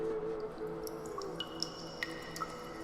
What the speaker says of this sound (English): every drip from the cave lime icicles